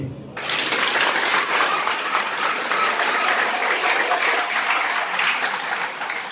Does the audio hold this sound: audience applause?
yes